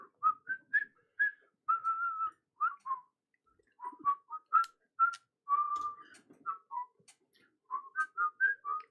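A person whistles a lively, bird-like tune in short rising and falling phrases, clear and close with brief gaps between notes, with no talking.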